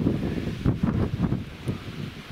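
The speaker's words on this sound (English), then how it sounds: "We knew it was going to be windy." Strong north wind buffets a wild camp in the Cheviots, gusty roaring wind noise hitting the microphone in uneven bursts with rustling, no talk.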